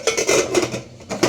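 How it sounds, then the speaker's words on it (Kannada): A pressure cooker lid being closed while making vegetable rava upma, with several metallic clanks and scrapes of the lid against the pot, near and fairly loud, with no voices. "ಕುಕ್ಕರ್ ಮುಚ್ಚಿ"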